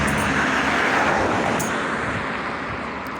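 Traffic roars past on a bridge over the Indus River at Attock, a steady, loud rush of vehicle noise that fades slightly toward the end.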